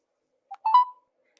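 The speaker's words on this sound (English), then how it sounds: "Dialing for Senator Todd Young, representing Indiana" Telephone dialing tones sound while calling a senator's office, with a couple of short electronic beeps in quick succession, clear and isolated against silence.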